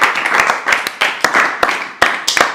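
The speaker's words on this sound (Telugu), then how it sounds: "క్లాప్స్ ఒకసారి మనం" Audience clapping at an orphanage gathering, loud and close, with sharp individual claps standing out in an uneven rhythm over a steady wash of hands, no talk.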